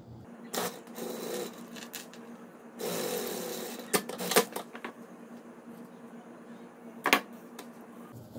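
Sewing machine stitching a fabric case for a button football game set, with short close bursts of stitching between quiet pauses and sharp clicks, no talk.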